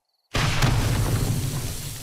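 In the 7 Days To Die video game, a car and a gas pump explode together. After a brief silence a sudden loud blast erupts, then a deep rumbling roar that holds steady for the rest of the clip.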